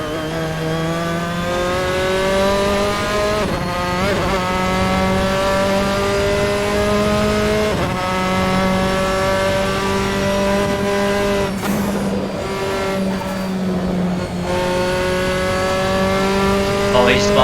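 Race car engine in the Assetto Corsa sim at Oulton Park, a loud steady high-revving drone with pitch dips and surges as the car loses grip and spins, brief squeal-like bursts near the end.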